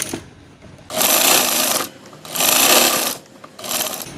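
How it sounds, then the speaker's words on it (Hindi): A sewing machine stitches an umbrella sleeve in three loud bursts of steady whirring, each about a second long, with short quiet pauses between runs. "अब इसे इस तरह से रखते जाएंगे और इसे सिलाई करते जाएंगे।"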